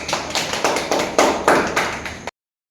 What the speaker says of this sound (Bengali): তাহলে ওর জন্য একটু হাততালি হয়ে যাক।